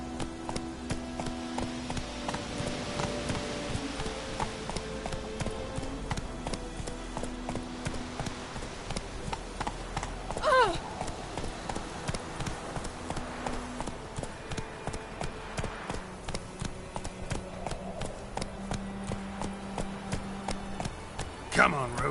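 The horse Roach gallops in The Witcher video game, with steady rhythmic hoofbeats running throughout under music and spoken voices.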